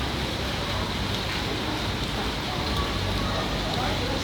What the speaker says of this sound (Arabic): والله أمطار من جد غزيرة ما شاء الله